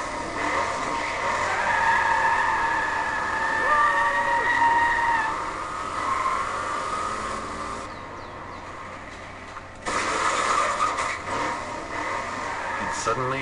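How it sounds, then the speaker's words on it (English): Racing car sound effects laid over toy cars: whining engines and skidding tire squeals, moderately loud, with a short quiet gap partway through before the noise resumes. "I got some racing car sound effects and added them to it."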